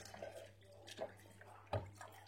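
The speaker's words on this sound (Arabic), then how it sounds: "وراح نزيد الحليب هذاك اللي بقى" Remaining milk poured into a mixture during home cooking, a faint liquid trickle with soft drips, a brief clink near the end, and a low steady hum beneath.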